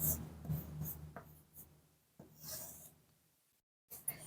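Numbers written by hand, with quiet, close pen or pencil scratches coming in short strokes separated by brief pauses.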